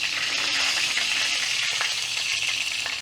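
Pompano fish fries in a pan, hot oil sizzling and crackling loudly and continuously, close by, with no talking.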